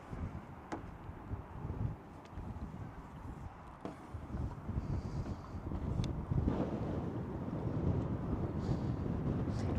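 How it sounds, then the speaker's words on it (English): Strong wind buffets the microphone outdoors beside a 1997 Honda CR-V 4x4 during a walkaround of its frame, a continuous loud rumbling roar with gusts that build steadily and no one speaking. "It is really windy."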